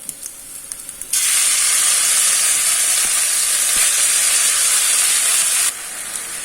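Cooked raw banana thoran tipped into a hot pan erupts into a loud, steady sizzle that holds for several seconds, then drops back to a softer hiss.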